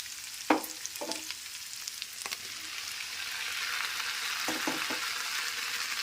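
Okra frying in a pan with ginger garlic paste gives a steady close sizzle, broken by a few sharp clicks and scrapes of stirring near the start and again toward the end.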